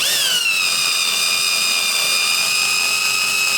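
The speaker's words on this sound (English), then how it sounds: "run our screws all the way in" A power drill whines steadily at high speed while driving screws into a front door knob being replaced, a close, continuous tone with no pauses.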